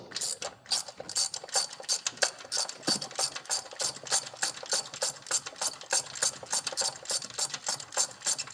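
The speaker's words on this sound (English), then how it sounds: "let's get the rest of these plugs out" A hand ratchet clicks in rapid, steady bursts while loosening spark plugs from a 6.4 Hemi Scat Pack engine, the close, crisp pawl ticks repeating continuously throughout.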